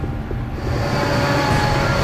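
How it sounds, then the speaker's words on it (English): An enormous runaway freight train tearing through the Canadian Rockies makes a loud, dense rumbling roar with metallic rail rattle that builds and stays constant throughout. "enormous freight train is out of control, tearing through the Canadian Rockies"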